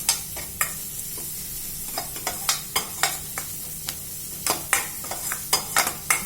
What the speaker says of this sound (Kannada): ಶುಂಠಿ ಬೆಳ್ಳುಳ್ಳಿ ಪೇಸ್ಟ್ ಹಾಕಿದ್ಮೇಲೆ ಒಂದು ನಿಮಿಷ ಅದನ್ನು ಫ್ರೈ ಮಾಡಿ